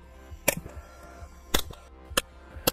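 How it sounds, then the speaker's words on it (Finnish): A nail gun drives nails into wooden wall paneling inside a cabin, firing four sharp, separate cracks at uneven intervals over a low, quiet background. "Tässä kun ammutaan tätä reunaa täältä kiinni, niin siihen voi ampua ihan niin monta naulaa kuin haluaa"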